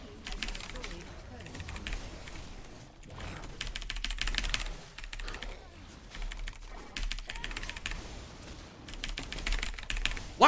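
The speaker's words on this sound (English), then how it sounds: "Nerd typing." Rapid typing on a computer keyboard, a dense stream of clicks mixed with ongoing video game sounds, with talk over it.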